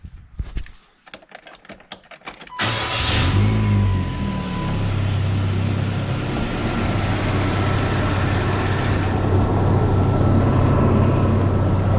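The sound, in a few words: car engine revving with cold air intake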